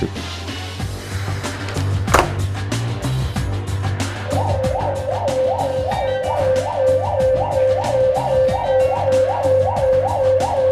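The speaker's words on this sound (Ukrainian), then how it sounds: "У нас пожежна тривога" A fire alarm siren at a rescue service station starts partway through and repeats a rapid, regular pulsing tone over a steady mechanical hum, with clattering movement and a sharp bang earlier on.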